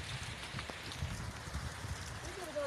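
Rain falling in a rural outdoor setting, a soft, steady patter of drops on surfaces at low level, with faint background voices.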